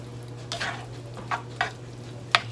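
Sauce for shepherd's pie is stirred in a pan over a steady low hum, with a few separate scraping strokes and one sharper clink of the utensil against the pan.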